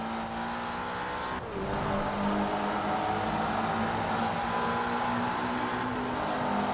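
A modified Opel Astra in Forza Horizon 4 accelerates hard in first gear, with a loud, close, continuous engine drone rising in pitch and a brief dip as the gear changes.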